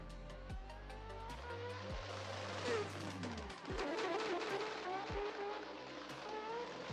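A drift car engine revs hard and shifts repeatedly on a track during a drift competition qualifying run, with a missed shift, and broadband tire and track noise throughout; no voices are heard.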